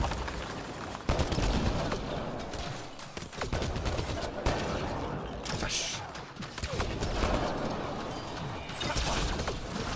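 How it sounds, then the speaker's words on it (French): Rapid bursts of enemy turret gunfire in the sci-fi shooter Mass Effect Andromeda, dense crackling volleys layered with game combat noise and mechanical clatter, loud and continuous with brief lulls, while a player talks intermittently over it. "C'est la tourelle qui me fait masse dégâts."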